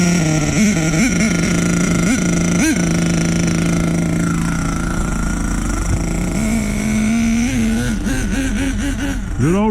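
A small engine fires up and keeps running: loud, close, steady droning with rising and falling revs, no talk.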